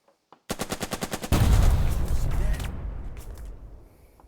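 Enemy machine gun fire in the Burden of Command video game: a rapid even burst of about eight shots, then a heavy sustained roar of gunfire that slowly fades away, loud and close.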